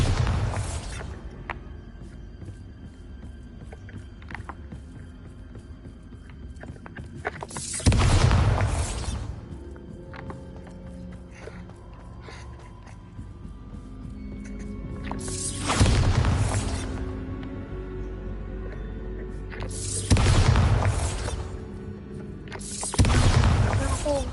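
Bombarda explosion spells from a video game, four loud blasts going off at spaced intervals, each a sharp broadband burst that decays over a second, against low mechanical background sounds.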